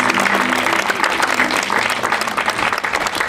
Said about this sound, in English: I'd like you to applaud anyway because it's being filmed